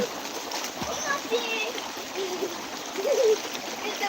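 Water splashes and trickles in a stream, a steady wash with brief louder splashes, while a voice talks over it.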